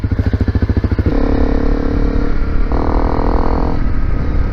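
A Honda CRF250L Rally motorcycle fitted with an FMF exhaust starts with a loud, close, pulsing idle that quickly rises into a sustained revving engine drone, holding a higher pitch mid-ride before easing, with no voices.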